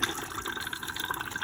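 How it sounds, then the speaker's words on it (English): Water rushes steadily into the toilet cassette of an Autosleeper Burford motorhome as it is flushed, a continuous close hiss and gush with no talking over it. "there you can see the water flushes in"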